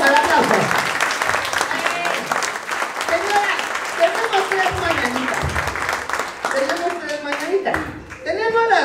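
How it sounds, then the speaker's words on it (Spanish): Applause and clapping at a children's party with clowns in Mexico City, steady clapping throughout with music and voices mixed in underneath. "Deja el aplauso."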